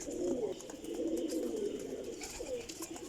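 Lakha pigeons coo softly in a low, rolling murmur that runs continuously, faint and close, with light background noise and no talk.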